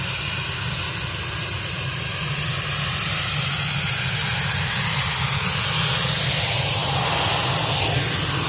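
A jet airliner in Jet2 Holidays livery departing, a loud, steady roar and hiss of engines that slowly shifts in tone as the aircraft passes nearby.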